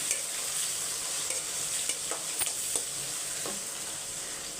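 Sliced medium onions and chana dal frying in oil, with a steady close sizzle and scattered sharp scrapes of a spoon stirring the pan.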